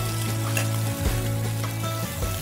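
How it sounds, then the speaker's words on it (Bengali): Chopped garlic frying lightly in oil in a pan, giving a steady close sizzle with occasional stirring clicks and no talk. "প্রথমে একটু তেল, গার্লিক, রসুন কুচি নিয়ে হালকা করে হালকা করে ফ্রাই করে নিতে হবে।"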